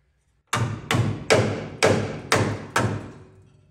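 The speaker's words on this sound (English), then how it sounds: "Very difficult to chisel it off." Six sharp metallic strikes land in a steady rhythm, each ringing briefly before the next, as a chisel is hammered against a stubborn rusted hinge pillar cap on a classic car.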